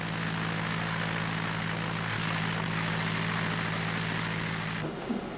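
A research aircraft flies over the Amazon rainforest carrying atmospheric scientists, its propeller engines giving a steady, loud droning hum from inside the cabin that holds constant before a brief disturbance near the end.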